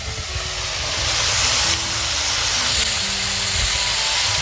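Green beans going into hot, already-fried masala in a home kitchen give a loud, steady sizzling hiss that lasts throughout, close and without talk.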